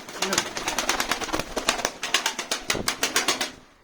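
Pigeons in a coop make close wing flaps and fluttering bursts with rapid rhythmic clapping, alongside some soft cooing, while a person speaks nearby.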